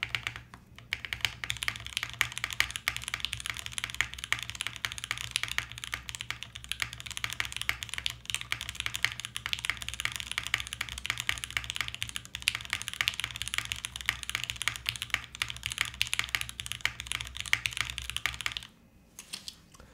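Continuous fast typing on a Fuji65 keyboard built with a carbon fiber plate and Oil King switches, dense rapid clacks close up and alone, ending with a brief pause.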